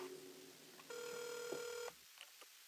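A single telephone ring tone sounds for about a second, clear and fairly near, in a quiet room with faint background noise and no speech.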